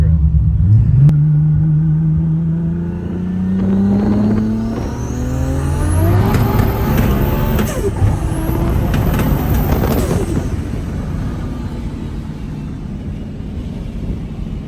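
A 1200-horsepower rat rod Toyota Supra street car drives hard, its engine roaring loud and close with rising revs, gear changes and a sustained heavy rumble throughout.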